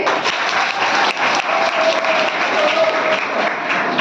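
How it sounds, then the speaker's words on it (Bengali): A room of college students and staff claps steadily for the chairman at a notice assembly. The dense, even applause holds for about four seconds with no break. "তাইলে সভাপতি স্যারের জন্য একটা হাততালি।"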